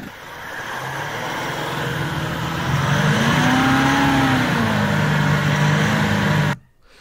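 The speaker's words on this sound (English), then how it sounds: "that's the vehicle just spinning with brake traction control and nothing else." A Toyota LandCruiser 79 with brake traction control holds a loud, steady engine drone while its wheels spin, the pitch rising and falling once, before cutting off abruptly.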